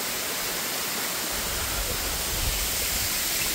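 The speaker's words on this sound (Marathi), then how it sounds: "हा वॉटरफॉल" Waterfall in a valley, heard as a steady broad rushing roar of falling water, continuous and fairly loud with no talk over it.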